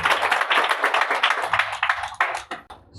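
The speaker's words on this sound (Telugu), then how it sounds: "గట్టిగా చప్పట్లు కొడితే" Loud congregation clapping at a Telugu church sermon, dense and continuous for about two and a half seconds before it thins into a few scattered claps.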